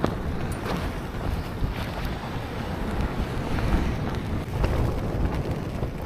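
Strong storm wind buffets the microphone at a tent in light rain, a constant rumbling roar with gusty swells and no voices.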